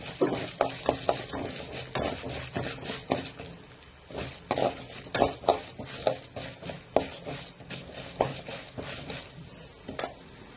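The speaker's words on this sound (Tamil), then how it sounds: "உளுந்தம்பருப்பு கடலைப்பருப்பு ரெண்டையும் ஒன்றா போட்டுடலாம். போட்டு வறுத்துக்கலாம்." Urad dal and chana dal roasting in oil in a pan for curry leaf chutney, with a soft sizzle and repeated scraping and stirring strokes at close range and no talk.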